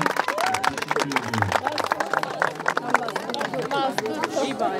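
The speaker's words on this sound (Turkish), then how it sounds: "Evet, beni de alkışlayın." Guests at a Turkish civil wedding ceremony clap after the signing, scattered applause under lively chatter and cheering voices, close and busy throughout.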